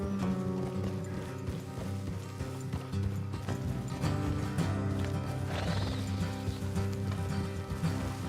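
Steady rhythmic hoofbeats of galloping horses in Red Dead Redemption 2, continuous and fairly loud, mixed with rattling and other movement noise, with no voices.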